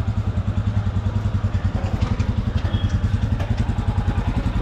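A Royal Enfield Himalayan motorcycle engine runs steadily at a service center, a loud, close, rhythmic idle thump with some mechanical clatter and no pauses.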